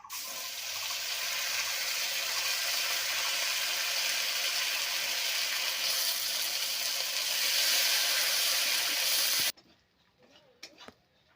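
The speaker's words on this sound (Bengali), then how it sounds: "ফোড়নে দিয়ে দিচ্ছি আমি বেটে রাখা জিরে, আদা আর লঙ্কা" Ground cumin, ginger and chilli paste hit hot tempering oil and set off a loud, broad, continuous sizzle that holds for about nine seconds, then cuts off abruptly, leaving faint clinks and rustling.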